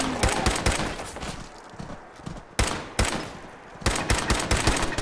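Automated defense turrets in Fallout 4 rattle off rapid bursts of gunfire, loud and close, in several clustered volleys separated by brief pauses, with no talking over them.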